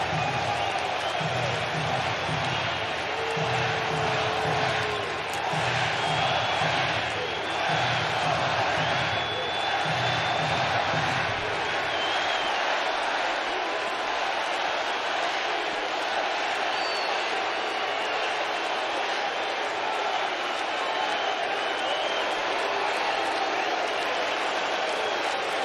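Baseball stadium crowd at a Dodgers versus Mets game roaring and cheering steadily, a dense wash of voices with applause that stays loud throughout, with a heavier low rumble in the first half.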